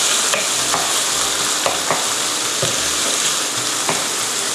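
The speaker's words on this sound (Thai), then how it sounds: "พริกไทยค่ะ ผัดกลับไปกลับมาเล็กน้อยแล้วก็ปิดไฟได้เลยนะคะ" Filling with chopped spring onion and pepper stir-fried in a pan for a Vietnamese-style steamed rice-skin dumpling, giving steady loud sizzling broken by intermittent scraping stirs of the spatula, with no voices.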